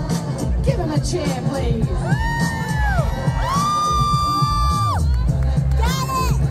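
Crowd cheering at a comic con in Liverpool, with loud whoops, shouts and rising voices from a packed audience, music and bangs mixed in, close and energetic throughout.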